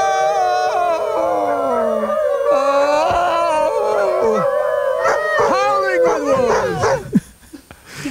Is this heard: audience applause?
no